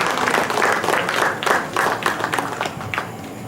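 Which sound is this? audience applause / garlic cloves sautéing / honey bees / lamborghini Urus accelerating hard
audience applause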